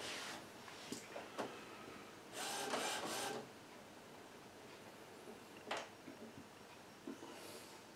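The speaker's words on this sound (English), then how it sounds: "we'll turn it on and the printer will moan at us that there are no cartridges" An Epson WF-2010W inkjet printer powers up with no cartridges fitted, giving a series of mechanical clicks, whirs and clunks with a longer grinding stretch midway, heard alone at close range.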